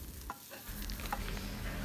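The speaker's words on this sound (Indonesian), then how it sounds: "Jangan lupa terus mengaduk agar bumbu dan ayam tidak menempel pada dasar wajan." Shredded chicken floss stirred in a frying pan, a close, quiet scraping and rustling of a utensil against the pan over a faint, steady sizzle, with no talking.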